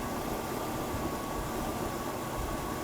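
A 1977 Chevrolet Impala 9C1 engine idles close by, a steady, even mechanical hum with a faint whine running without change throughout, with a declutching fan.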